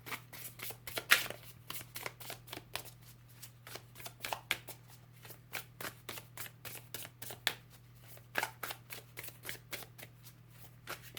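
A deck of tarot cards is shuffled by hand in quick, repeated riffles and slaps, a steady run of crisp bursts up close over a low background hum, with no talking.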